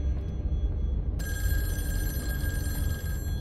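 A telephone in a horror video game starts ringing about a second in, a bright sustained electronic ring over a low rumbling ambient drone that continues to the end.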